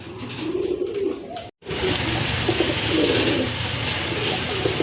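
A pair of light-coloured pet pigeons coo repeatedly close by, their soft throaty calls rolling on through the stretch with only a brief dropout of sound partway in.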